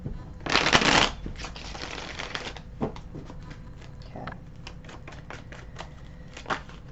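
A short, crisp riffle of tarot cards being shuffled up close, followed by a series of light taps and clicks as the deck is squared and handled.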